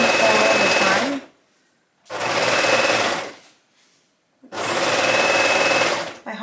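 An overlocker stitches a Sew Over It Penny Dress in three loud, fast whirring runs of about one to two seconds each, with near-silent pauses between them and no talk.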